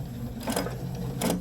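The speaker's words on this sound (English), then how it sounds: "I'm just going to do some really quick, easy grid lines. And I like to use a walking foot for this" Sewing machine fitted with a walking foot stitching straight quilting grid lines on a dog treat toy, a steady mechanical hum with two brief louder bursts of rapid stitching.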